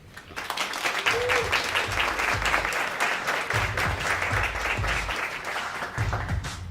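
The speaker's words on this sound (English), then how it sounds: "First, I need a huge round of applause for Tiffany." Audience applause welcoming a middle school theater and production teacher to the stage, a dense, steady round of clapping that swells and holds throughout, with faint talk underneath.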